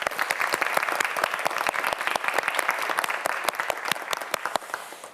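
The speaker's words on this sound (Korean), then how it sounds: "정민서 학생에게 큰 박수 부탁드립니다." A television quiz show's studio audience applauds a student contestant, a dense, steady burst of many hands clapping close by for about five seconds before it tapers off, with no talk over it.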